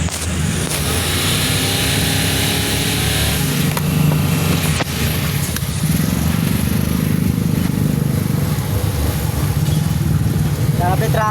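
Heavy road traffic with cars and motorcycles, engines idling and revving close by in a continuous rumble, with a few sharp clanks and someone talking over it.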